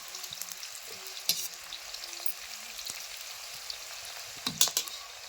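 Four chopped onions frying in a pan, a soft continuous sizzle with occasional louder clicks and stirring scrapes, close and steady, with no talking.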